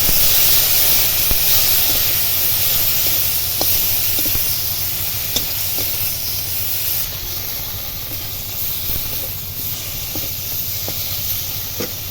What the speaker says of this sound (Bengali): লঙ্কা গুঁড়ো একটুখানি জল দেব দিয়ে মশলাটা কষে নেব